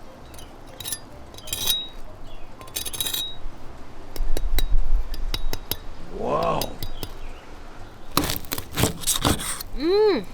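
Crispy air-fried pork belly skin crackling and crunching, with scattered sharp clinks and cracks, a short rumble and several bright scraping sweeps, while someone speaks briefly close by.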